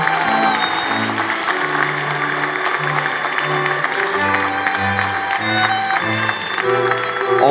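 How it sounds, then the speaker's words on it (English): Applause for the graduating class at a university commencement ceremony, a steady wash of clapping that runs throughout while music with a low, stepping bass line plays loudly alongside it. "Big hand of applause to our graduating class."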